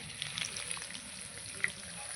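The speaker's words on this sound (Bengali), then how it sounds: "পেঁয়াজ আর আলু আর একটু ভাজবো" Onion and potato frying together in a pan, a steady close sizzle with small crackles and pops throughout and one sharper pop near the end, no voices.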